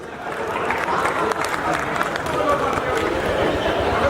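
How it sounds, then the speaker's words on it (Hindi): Scattered clapping from an audience at a Hindi comedy poetry show, a steady patter of hands under crowd murmur and a voice, moderately loud and close. "ताली तो बजा लीजिए आप प्लीज"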